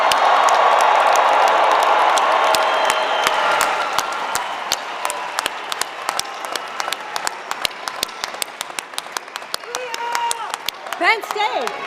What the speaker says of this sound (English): let's give the class of 2024 another round of applause